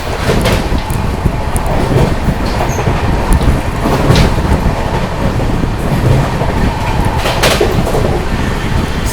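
An express train races through Fatehpur railway station at speed, loud and close, with a continuous roar of wheels and rhythmic clickety-clack, sharp rail squeals and clanks cutting through.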